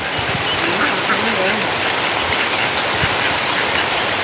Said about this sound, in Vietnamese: ở miền Tây đang bị áp thấp nhiệt đới đó, cho nên mưa rất là nhiều